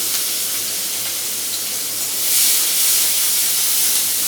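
Chopped onions hit hot oil in a pan with a loud, close, continuous hiss and sizzle that swells slightly about halfway through, with no talking.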